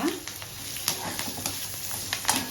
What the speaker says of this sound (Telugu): పచ్చిమిరపకాయలు, కరివేపాకు వేసి వేగిన తరువాత